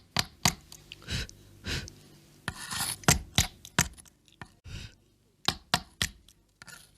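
Steel chisel struck by a hammer carving stone, a sharp irregular run of close, loud taps and clinks with short pauses, some blows doubled quickly, no voices.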